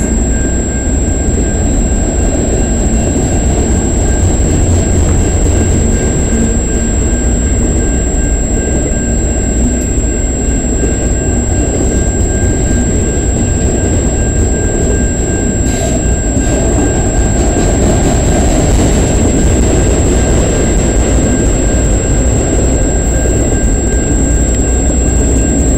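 A GECX freight train rolls past on the Dundas Sub along Colborne Street in London, Ontario, gaining speed; a loud, steady rumble of wheels and cars fills the whole stretch, with faint squeals and a high whine above.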